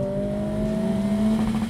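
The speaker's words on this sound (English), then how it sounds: "it still has a fun rev limiter. There's no economy car feeling when you hit it." A 2023 Acura Integra engine held at high revs against its limiter, a steady loud drone with faint stuttering pulses running continuously, alone with no talk.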